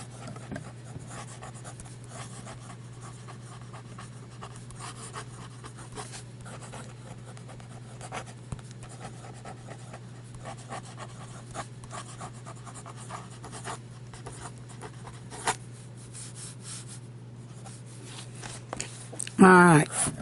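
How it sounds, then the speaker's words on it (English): A Hero 616 fountain pen scratches quickly across paper in continuous fast writing strokes, close and fairly quiet over a steady low hum, with a brief louder rustle at the very end. "We'll do some fast writing."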